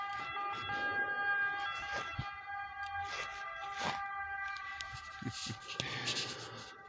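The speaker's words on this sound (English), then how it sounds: "Thank you for the siren." An emergency vehicle siren wails steadily, moderately distant, its sustained tones running through the whole stretch with scattered clicks and faint background noise.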